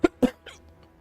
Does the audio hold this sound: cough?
yes